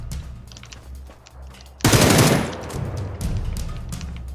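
Automatic gunfire in PUBG Battlegrounds: a sudden loud, dense burst of shots that trails off into scattered rattling over low game background rumble.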